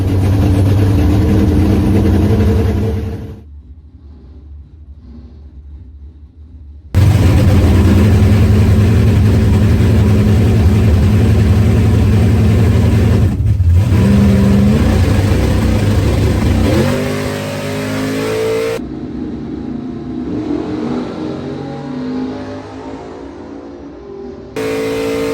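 A drag racing car's engine revs hard and loud at close range, cuts to a low idle, then roars back for a long sustained high-rpm run before settling into a lower rumble.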